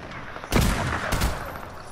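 Gunfire in a multiplayer shooter video game: two sharp, loud bursts of shots, the first about halfway through and a second shortly after, each with a rumbling tail and no talk over them.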